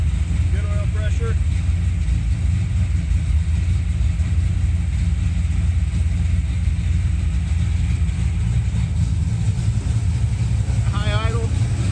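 A 1965 Dodge Coronet with a 493 cubic inch big block stroker V8 holds a high idle, a loud, steady, dense rumble running unbroken from start to finish, with brief voices faintly audible over it.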